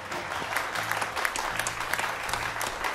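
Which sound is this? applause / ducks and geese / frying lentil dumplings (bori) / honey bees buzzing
applause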